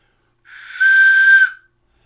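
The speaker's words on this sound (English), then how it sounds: "It's a whistle." A homemade frog-shaped whistle gives one steady, shrill, close blast lasting about a second, with a slightly breathy onset and no talking.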